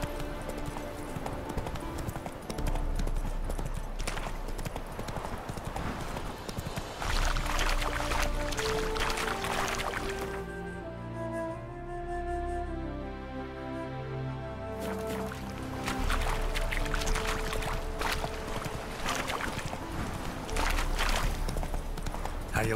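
Hooves of a horse in The Witcher 3: Hearts of Stone clip-clop in a steady rhythm over a game soundscape, continuous and fairly loud, with a brief quieter stretch in the middle.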